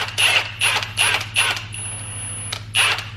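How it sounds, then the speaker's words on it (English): A ratchet cracks loose E10 valve cover bolts on a BMW N54 engine, four evenly spaced rapid clicking bursts, a pause with a faint whine, then one more burst, loud and close, no talking. "So I'm going to start cracking these bolts free"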